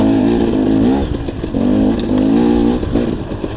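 A dirt bike motorcycle rides along nature trails, its engine loud and close, buzzing in surges as the throttle rises and falls with no voices heard.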